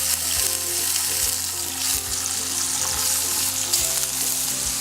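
Tofu browning in oil in a pan for a Trinidadian veggie stir fry, a loud, steady, close sizzle with faint clicks of the pan running throughout, no voices.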